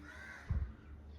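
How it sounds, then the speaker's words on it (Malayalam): A single short caw from a crow rings out briefly, fairly distant, against a quiet background. "കാക്കയുടെ സൗണ്ട് കേട്ടാൽ ഫുൾ ടൈം ഇവിടെ കാക്ക കാണും"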